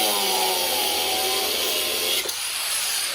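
A power tool whines and buzzes up close as it cuts through a car's shock absorber shaft, then cuts off abruptly after about two seconds, leaving a quieter tail.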